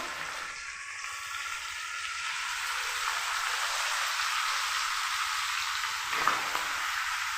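Spices and rose water frying in ghee in a pan give a steady, close hiss of sizzling that swells slightly midway, with a faint clink near the end.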